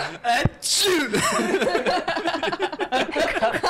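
A single sneeze near the start, sharp and close, followed by people talking and chuckling during a French tabletop role-playing session.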